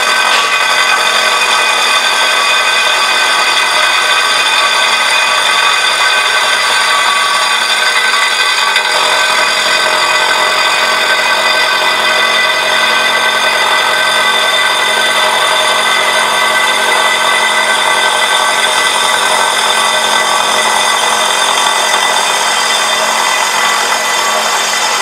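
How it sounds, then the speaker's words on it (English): Loud, continuous machining as rocker plate boxes are milled out of a cradle casting for a Union Pacific 844 steam locomotive: a steady, dense metallic grinding whine with a high cutting ring, unbroken and close throughout. "The next step was to mill out the rocker plate boxes on either side of the cradle casting."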